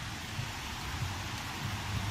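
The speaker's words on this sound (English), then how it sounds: "it's a rainy October afternoon here in London" Steady rain on an overcast October afternoon in London, a constant, even wash of noise with no pauses, heard alone with no voices.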